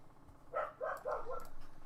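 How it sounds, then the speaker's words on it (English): A dog barks three times in quick succession, sharp and fairly close, over a low background hum. "The dog is barking at something."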